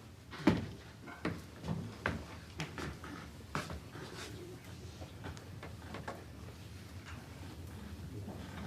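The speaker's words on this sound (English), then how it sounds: "Close that door." An office door is pulled shut with a firm thump near the start, followed by a few fainter knocks and shuffles in a quiet room with low background hum.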